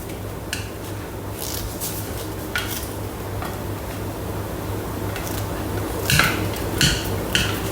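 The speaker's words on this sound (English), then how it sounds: "I'll just grab this spatula. I'll show you. I'll scrape down the sides." A spatula scrapes down the sides of a thermomix bowl holding thin strawberry chilli sauce, giving intermittent scratchy strokes over a steady low motor hum, with a louder cluster of scrapes near the end.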